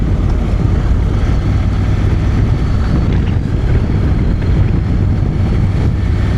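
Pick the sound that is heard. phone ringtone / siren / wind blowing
wind blowing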